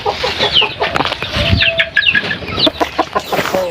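Backyard breeder chickens, three hens and two roosters, clucking close by in a steady busy chatter of overlapping calls, with a brief sustained squawk midway and some wing-flapping shuffles.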